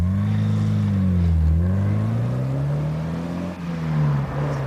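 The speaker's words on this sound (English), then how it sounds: "This is a Porsche 944 Lux, 1983." An original 1983 Porsche 944 Lux sports car engine drones steadily and loudly up close, its pitch sagging and climbing again as the revs shift, with no voices.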